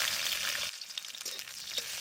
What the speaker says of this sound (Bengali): সামান্য এবার আদা আর রসুনটা ভাজবো